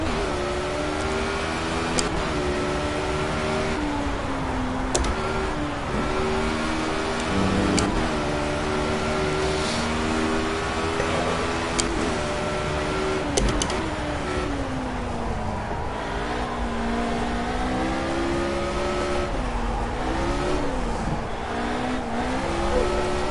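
Formula A open-wheel race car in Project CARS, its engine droning steadily with pitch swings as it downshifts into second gear and the rear steps out, loud and continuous throughout.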